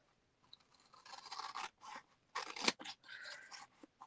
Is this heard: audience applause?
no